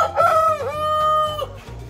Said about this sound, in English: So for us here, I'm sure you can hear some birds crowing.